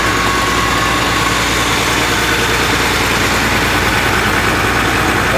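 A 2+2 tractor used for chopping corn idles close by, giving a loud, steady, unbroken engine rumble with a constant low throb and no pauses.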